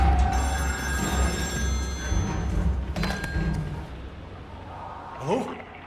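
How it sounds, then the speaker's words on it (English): A telephone rings inside the horror video game Still Wakes The Deep, set on an offshore oil rig; a steady electronic-style ring runs for several seconds under ambient game noise, with a brief thump and other game sounds near the end. "Is that another phone?"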